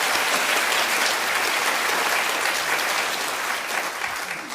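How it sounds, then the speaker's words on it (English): An audience at a public talk on securing the planet's future applauds climate scientist Sir Brian Hoskins. The clapping is dense, even and continuous, holding at a steady level for several seconds and easing slightly at the end. "Round of applause"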